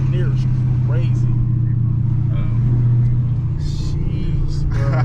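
A Dodge Hellcat's engine rumbles steadily from inside the cabin as it pulls hard, a deep continuous drone under excited talk.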